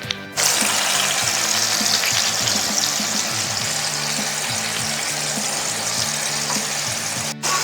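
Pork tenderloin searing in clarified butter heated to 360°F, a loud, steady frying sizzle that starts abruptly and continues throughout, with faint utensil clinks and occasional stirring bumps underneath.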